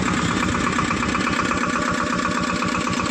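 A mini tractor engine idles close by with an even, rapid chugging pulse that holds steady, and no one speaks.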